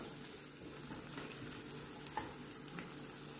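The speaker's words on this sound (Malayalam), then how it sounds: "തക്കാളി ഒന്ന് നല്ലപോലെ വെന്തുടഞ്ഞ് വരട്ടെ." Tomatoes frying in a pan, a soft, continuous sizzle with faint stirring clicks, quiet and unbroken for a few seconds.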